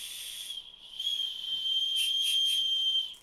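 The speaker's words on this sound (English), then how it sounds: "It's a whistle on a stick that I can eat." A strawberry-flavored candy whistle on a stick is blown, giving a shrill, thin, sustained tone that wavers slightly, breaks off briefly, then holds steady with a few breathy pulses before stopping.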